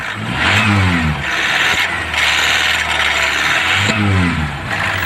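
A Kia Pride B3 engine that ran out of oil revs up and down loudly and steadily, with a rough, rattling knock running through the drone.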